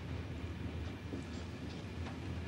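A train runs steadily on its rails, heard from inside as a continuous low rumble and hiss with faint rhythmic clatter underneath, even and unbroken throughout.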